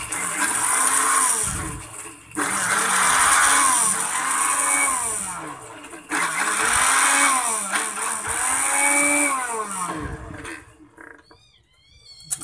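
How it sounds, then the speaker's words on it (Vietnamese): An electric blender grinds roasted peanuts for fishing bait with a loud, close motor whine that rises and falls in repeated cycles. It pauses briefly twice, then winds down to near silence at the end. "Lạc giang rồi cho vào máy xay sinh tố xay."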